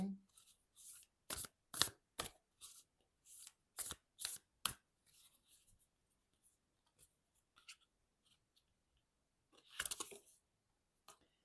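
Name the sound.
shuffling Starseed oracle cards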